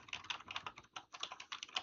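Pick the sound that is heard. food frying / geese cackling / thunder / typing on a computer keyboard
typing on a computer keyboard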